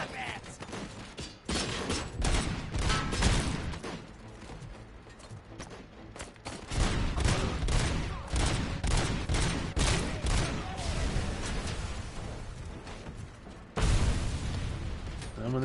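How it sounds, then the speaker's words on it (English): Grenade explosions and gunfire in a video game, repeated booming blasts and volleys of shots in irregular bursts over a long stretch of loud combat noise. "Them and their damn grenades, I tell you."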